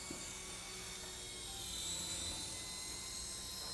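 A Walkera x100 RC coaxial helicopter whirs steadily in flight with a high-pitched motor whine, continuous and fairly close, no voices.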